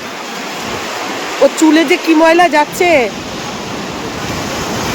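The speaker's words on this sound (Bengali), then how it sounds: "ওই দেখো কত বড় ঢেউ" Continuous roar of surf and breaking waves fills the clip, with a person speaking briefly over the crashing water in the middle.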